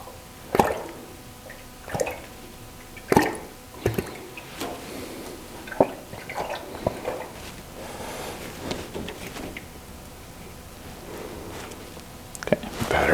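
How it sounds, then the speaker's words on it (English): Air bubbles rise through the cooling system of a Toyota FJ40 after a new water pump is fitted, giving scattered soft gurgles, drips and pops at irregular intervals over a quiet background. "I can hear some air bubbles coming up."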